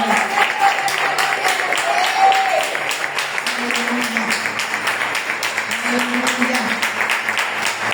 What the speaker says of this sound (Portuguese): Aplauda ao Senhor, glorifica ao Senhor.